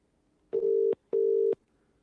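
A telephone call failing to get through: two identical steady electronic tones, each lasting about half a second, separated by a short gap, clear and isolated on an otherwise quiet line.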